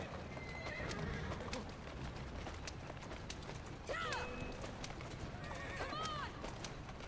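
Horse in Assassin's Creed Syndicate whinnies twice in quavering calls, with hooves clopping and street ambience underneath, fairly faint overall.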